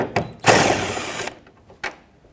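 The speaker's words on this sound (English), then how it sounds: "I'm going to start with the two 10mm bolts at the top" A ratchet spins out a 10mm headlight bolt on a 2007-2016 GMC Acadia, giving a short whirring buzz nearby, framed by a few sharp clicks and clanks of the tool.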